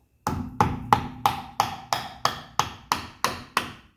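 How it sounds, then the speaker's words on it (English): Ten evenly spaced hollow knocks of a cut-off broom handle tapping the rear axle of a 1985 station wagon out of its hub, loud and close, each strike ringing briefly. "Tap that axle out."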